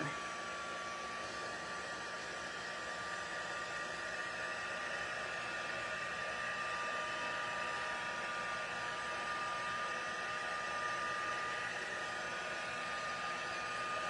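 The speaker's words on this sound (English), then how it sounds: "I got a drying thing here. Let's try and dry it a little faster." A hair dryer blows on a wet colored card, a steady whooshing hum held at an even level throughout, close and alone without speech.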